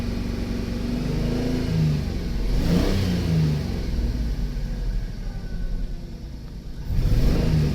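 A 1998 Dodge Grand Caravan SE engine revs up and settles with a cylinder misfire, an uneven mid-pitched rumble rising in two close bursts, the second near the end of the clip.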